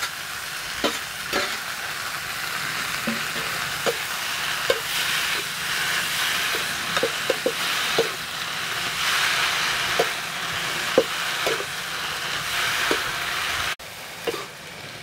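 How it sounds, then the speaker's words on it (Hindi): Garlic and chili being fried in oil for a tadka, a continuous bright sizzle close by with repeated clicks and scrapes of stirring spread across the clip and no talking. "तेल में बहुत अच्छे से हमने भून लिया है और लहसुन का खुशबू दोस्तों बहुत ही बढ़िया से इसमें आ रहा है।"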